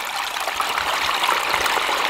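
Water leaks past a pig inside a hydroelectric penstock as a steady rushing trickle and gush, continuous and fairly close, with no voices.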